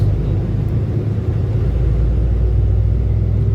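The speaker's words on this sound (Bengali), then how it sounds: "চালু হয়ে গেছে বাস।" A bus engine running just after starting, heard from inside: a loud, steady, deep rumble that holds without break throughout.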